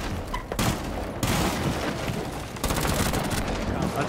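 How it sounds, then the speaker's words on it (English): Rapid automatic gunfire from Rainbow Six Siege, shooting to open a breach, rattles in continuous loud bursts with brief gaps throughout, with players' voices mixed into the din. "Come on, shoot that break, Shimbal, shoot that break."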